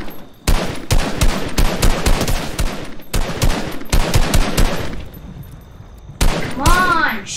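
Fortnite PC solo Battle Royale gunfire: loud rapid bursts of shots and a shotgun, in dense volleys with brief gaps, then a rising whistling effect near the end; a voice talks briefly over the firing.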